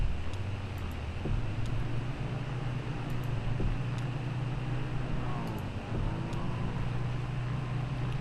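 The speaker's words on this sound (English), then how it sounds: "The truck actually is making sounds that sound like a person." Steady rumbling drone of a truck in the video game Kentucky Route Zero, a continuous low engine hum with faint shifting tones and occasional soft clicks, no voices.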